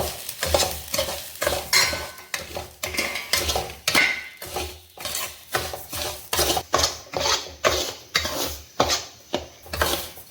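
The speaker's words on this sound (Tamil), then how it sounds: "இப்போ நம்ம இதோட 1 கப் ரவை சேர்த்து வறுத்துக்கலாம்." Semolina (rava) is stirred and roasted in a pan with a spatula that scrapes steadily back and forth, each stroke clear and close, with a soft dry rustle underneath and no voices.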